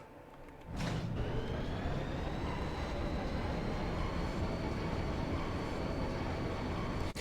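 A steady, loud mechanical rumble and hum of a train idling at a station before departure to Deling City in the video game Final Fantasy VIII, starting abruptly after a moment of quiet and holding constant.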